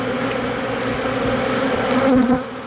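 Honeybees buzz loudly and continuously right up close during a hive inspection, a dense steady drone with a slight swell toward the end and no talking.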